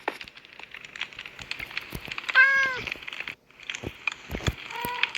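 A small kitten in Minecraft gives a high, thin meow, then another a few seconds later, over a bed of soft clicks and tapping sounds.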